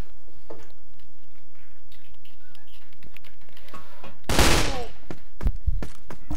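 A loud burst of rapid gunfire erupts in CrossFire, a search-and-destroy match on the Ankara map, with scattered clicks and faint shots before and after it.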